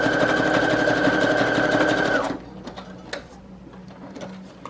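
A sewing machine runs steadily as it stitches across a paper collage tag made from mushroom book pages with a small fabric topper. The whirring is close and continuous for about two seconds, then stops abruptly, leaving faint handling clicks.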